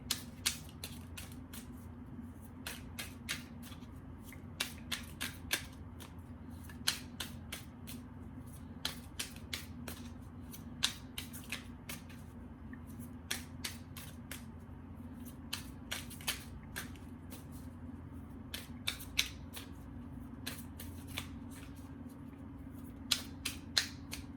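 Tarot cards shuffled and handled at a table give light, crisp clicks and snaps scattered irregularly over a steady low hum, faint and close, with no talking.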